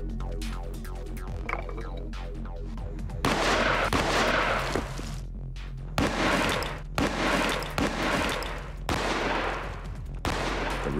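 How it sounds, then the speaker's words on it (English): A reproduction cannon fired point-blank at a brick wall: several loud, sharp blasts with rumbling decay, separated by short pauses, close and dominant. "It's going to be shot at with this reproduction cannon from point-blank range."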